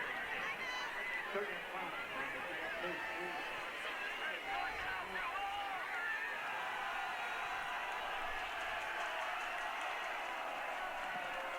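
A high school football crowd at an Olympus vs Brighton game in 2017 roars on third down, a steady wash of cheering and chatter heard from a distance while a commentator talks over it.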